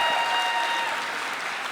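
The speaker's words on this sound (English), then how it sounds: "Another round of applause for them, everybody." A convention audience claps steadily, dense and moderately loud, the applause continuing evenly throughout with no voices over it.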